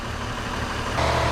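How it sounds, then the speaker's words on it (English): A car engine idles steadily during an at-home GDI/DPI intake valve cleaning treatment, a continuous close rumble that grows slightly louder and rougher partway through. "you're gonna wanna run the engine for about 10 to 15 minutes and let the solution drain out"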